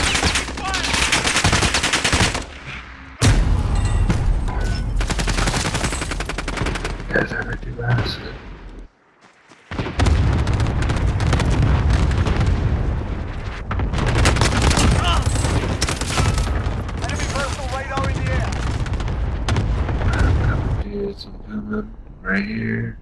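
Rapid automatic gunfire and bursts of shots ring out in the Call of Duty: Modern Warfare Plunder mode, dense and loud in long stretches with brief lulls, while players talk over the shooting.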